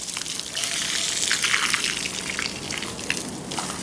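Water sprays and splashes from a garden hose outdoors on muddy ground, a steady broadband gush with a few brief surges, fairly close and without talk.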